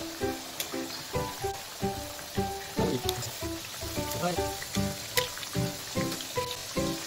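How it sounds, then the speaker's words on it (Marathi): Jaggery ladoos deep-frying in hot oil, soft bubbling sizzle broken by repeated rhythmic bursts of crackle, close and fairly quiet, with no voices. "आपल्याला चांगला गोल्डन ब्राऊन कलर येईपर्यंत लाडू तळून घ्यायचे आहेत."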